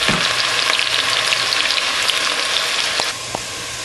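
Onion frying in roughly half a cup of hot oil for a vegetable hot pot, giving a loud, steady sizzle that runs throughout and eases slightly near the end, with a couple of faint knocks.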